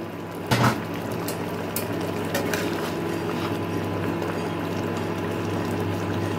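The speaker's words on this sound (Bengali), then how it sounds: "ঢাকা চাপাটা এখন আমি তুলে দিচ্ছি।" A pot lid lifts off simmering potato gravy for a vegetarian curry with a short clink, then a soft, steady bubbling continues quietly on its own.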